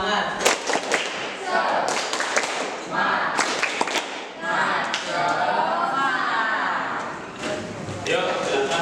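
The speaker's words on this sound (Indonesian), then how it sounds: "Tepuk semangat dan lebih semangat, ayo." An Indonesian classroom doing rhythmic spirit clapping, sharp group claps and thumps in patterned bursts mixed with children's voices, loud and close, with the clapping clustering in quick runs between spoken calls.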